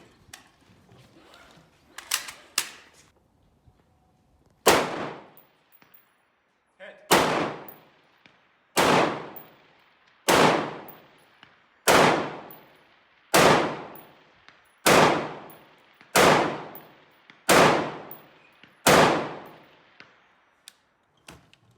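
Ten rifle shots fired at a 300-meter range with an Elcan M145 scope ring out one by one, each a sharp loud crack with a decaying tail, spaced about a second and a half apart after a few quieter clicks.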